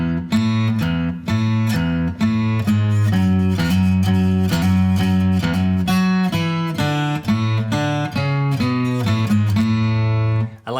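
A 12-string guitar plays the bass line from a song, with a melodic low riff of steady plucked notes and hammer-ons under ringing chiming strings. It is close and clear, with no talking.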